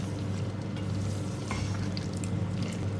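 Spiced potato and aubergine with pickle masala stirred in a pan, giving a steady close sizzle with soft scraping throughout and a low hum underneath.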